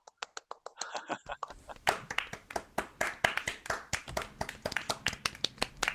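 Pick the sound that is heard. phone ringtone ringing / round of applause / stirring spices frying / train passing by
round of applause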